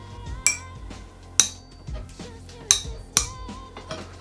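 Sharp metallic clinks ring out four times at irregular intervals as a hex key and fork lever a seized BMX bike stem, each with a brief bright ringing tail over low scraping and creaking.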